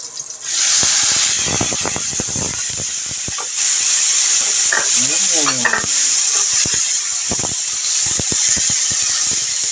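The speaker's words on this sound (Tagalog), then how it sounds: "Halo-haloin po natin ng sandali" Tomatoes and chili stirred in a hot frying pan: loud, constant sizzling and hissing with rapid scraping strokes of a spatula, close by, plus a brief whistling tone midway, no talk.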